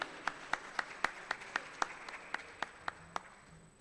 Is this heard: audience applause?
yes